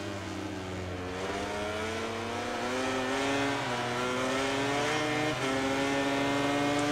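A MotoGP 19 racing motorcycle engine on a wet Silverstone track holds a loud, sustained high-revving whine whose pitch climbs and dips with gear changes, with no talking.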